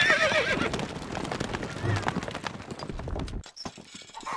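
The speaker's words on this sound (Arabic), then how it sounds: "الحصان سريع." A horse in the medieval strategy game Stronghold Crusader gives a loud whinny amid clip-clopping hooves, with steady galloping beats and game sounds, while a game voice speaks over the mix.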